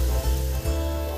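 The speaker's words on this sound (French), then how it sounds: "Faire revenir l'oignon." Onion sautéing in a pan, a steady close sizzle with a faint stir partway through, with no talk.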